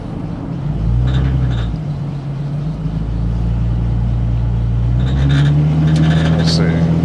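A Ford Mustang rumbles and accelerates on a test drive, its engine drone rising in pitch from inside the car, steady and loud with a few faint clicks.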